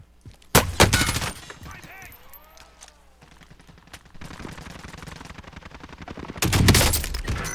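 Gunfire in a helicopter combat video game: loud sharp sniper shots near the start and end, with rapid bursts of distant automatic fire rattling in between.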